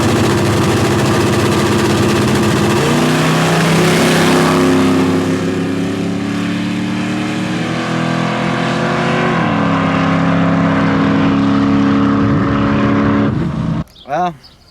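A nitrous-fed, LS-powered Nova launches down a drag strip, its engine roaring loud and steady, then shifting up through gears with stepped changes in pitch, before cutting off abruptly near the end.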